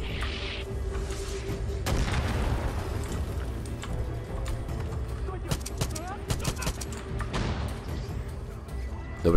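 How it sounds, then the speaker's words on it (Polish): Mortar blasts in the shooter game Far Cry 5, deep booming thuds and scattered sharp explosions landing over several seconds, with crackling debris and a few louder bursts near the end. "Moździerz!"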